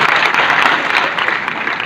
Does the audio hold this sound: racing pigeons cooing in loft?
no